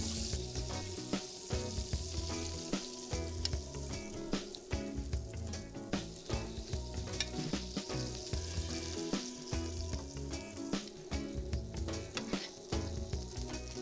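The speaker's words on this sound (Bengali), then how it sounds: "মাছের পরিমাণ বেশি হওয়ায় আমরা দুবারে ভেজে নেব" Prawns frying in oil in a pan, cooked in batches: a continuous soft sizzle with small crackles and occasional stirring clinks, fairly quiet and close, with no voices.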